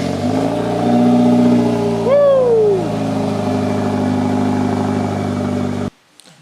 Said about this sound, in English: that cold start now.